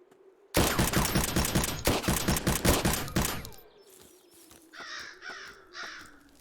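A weapon in Zero Sievert fires a loud, rapid automatic burst for about three seconds. Crows caw several times in the quiet that follows.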